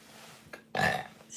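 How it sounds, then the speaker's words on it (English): A single short burp, close and fairly loud, preceded by a faint click, in a quiet kitchen. "Sorry, I always have to burp when I go live."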